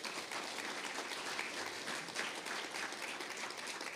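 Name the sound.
audience applause after keynote remarks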